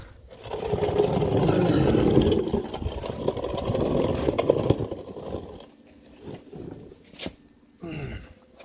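A Mitsubishi Lancer engine, in the middle of a turbo project, fires up with its exhaust down and runs loud and rough for several seconds, then settles to a quieter idle with scattered clanks nearby.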